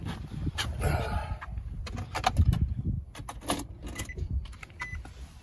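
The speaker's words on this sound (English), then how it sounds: "I'm going to start the car" Car keys jangle and click in the ignition as a car is started, a close series of sharp metallic rattles and taps with short pauses between them.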